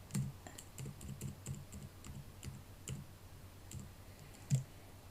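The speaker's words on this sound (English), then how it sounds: "Now I'm going to use my arrow keys to move it." Computer keyboard arrow keys pressed repeatedly while nudging a circle into position in Canvas Workspace design software, giving a string of quiet, irregular clicks close to the microphone with a slightly louder tap near the end.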